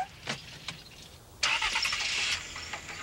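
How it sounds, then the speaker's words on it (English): A car engine cranking and being flooded: a few brief starter whirs, then a sudden loud, sustained rough engine roar that continues unsteadily to the end, close by. "You're flooding the car."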